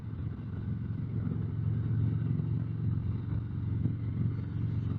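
A Harley-Davidson motorcycle being ridden, its engine a steady, fairly loud low rumble that holds even throughout with only slight swells, with no talk over it.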